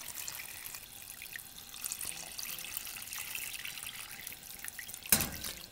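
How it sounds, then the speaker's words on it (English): Water poured into a pot of caramelized pork belly, a soft, steady trickle and splash at close range that runs continuously at low level, with a brief sharper clink near the end. "now I'm going to add just enough water to cover."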